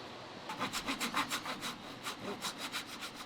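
A hand saw cuts through wood at a luthier's bench during the building of a classical guitar, giving a steady run of about a dozen close, rhythmic rasping strokes, fairly quiet and with no talk.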